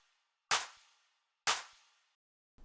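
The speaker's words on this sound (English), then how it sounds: "So here's the first clap." A crisp electronic clap sample made for a pop remix plays alone twice, each hit a sharp bright snap trailing into a short airy decay, evenly spaced and clean against silence.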